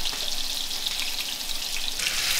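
Beef sears in a hot skillet with a bright, dense sizzle that crackles steadily and swells briefly near the end, close and loud with no voices.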